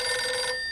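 A telephone bell rings in one short, bright, trilling burst, fairly loud and close, then stops abruptly with no talking.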